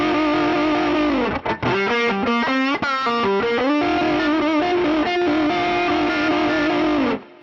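Heavily distorted electric guitar sustains notes shaken with rapid vibrato, the pitch wobbling quickly, loud and continuous with a few brief breaks before ringing out near the end.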